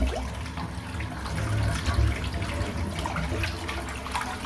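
Running water rinses soap off a freshly shaved head, a steady close splashing stream with no talk.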